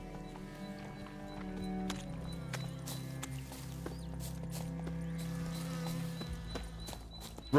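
Hoofbeats of Roach, Geralt's horse in The Witcher 3, clip-clopping steadily at a run over a low game soundtrack, with a brief whinny and no talk.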